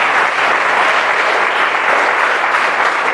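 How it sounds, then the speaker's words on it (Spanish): A congregation at a Sunday Mass breaks into loud, sustained applause, a dense steady clapping that fills the whole stretch without pause. "Vamos a darle un fuerte aplauso a Juan Pablo"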